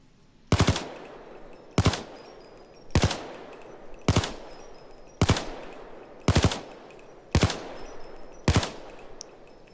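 L85A2 assault rifle fired in Payday 2, eight sharp, loud single shots spaced roughly a second apart, each with a short decaying tail, no talk.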